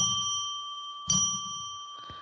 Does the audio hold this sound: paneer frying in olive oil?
no